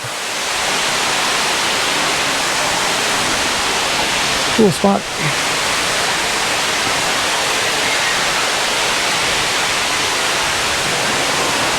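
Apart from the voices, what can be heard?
Silver Falls waterfall rushing, Oregon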